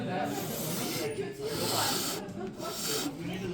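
Breathy, roaring rush of air blown straight into a microphone, loud and close, swelling and dipping in a few gusts.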